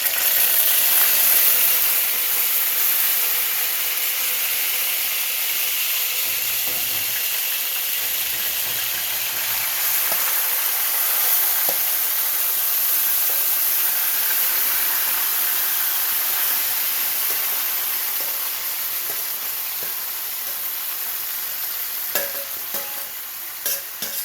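Overnight-marinated cow liver hits a hot pot with a loud, sustained sizzle and hiss that fades slightly over time, with occasional small pops and stirring scrapes and no talking.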